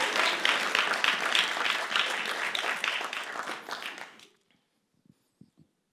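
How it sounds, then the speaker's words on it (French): An audience at a church sermon gives a dense burst of applause lasting about four seconds, then it cuts off into near silence broken by a few faint knocks. "tu peux applaudir"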